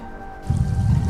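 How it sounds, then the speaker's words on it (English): Bubbling water at a geyser field in Iceland, a close, continuous gurgling and sloshing that grows louder partway through, with no talk. "Got some bubbling water here."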